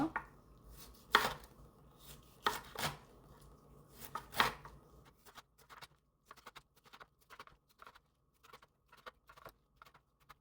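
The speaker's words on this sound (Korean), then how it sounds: "여기 뿌리 부분도 잘게 잘게 썰으면 돼요" A knife chops kimchi on a cutting board, first a few loud separate strikes, then a quicker run of lighter, rhythmic cuts close by.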